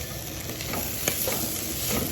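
Beef roast sizzles steadily in a hot pan while a spoon stirs and scrapes through it with a few sharp clinks, all close up with no voices.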